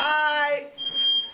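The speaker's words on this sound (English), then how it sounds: "The smoke detector going off." A household smoke detector chirps with one steady high electronic tone in the second half, right after a person's brief spoken greeting; the alarm sounds close and clear indoors.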